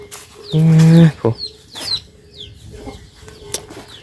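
Chickens in a backyard coop: a loud drawn-out crow-like call, then scattered clucks and short squawks, close by, with a faint voice in the background.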